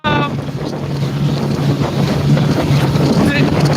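Strong wind roars steadily across a light sailing dinghy under way at sea, with wind buffeting the microphone and water rushing beneath the hull throughout, loud and continuous.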